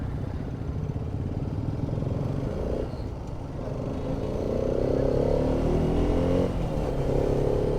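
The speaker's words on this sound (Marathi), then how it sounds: "फुल ट्रॅफिक." Heavy traffic crawls along a ghat road at Savlya Ghat near Tamhini: car and motorcycle engines idle and rev close by in a continuous rumble, rising slightly as vehicles pull forward.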